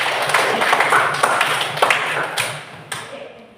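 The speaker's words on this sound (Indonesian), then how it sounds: "Oke, tepuk tangan untuk Alin." Classroom students clapping for a classmate during an English lesson; a loud, close burst of many hands clapping together, with sharp individual claps standing out and the applause fading over a few seconds.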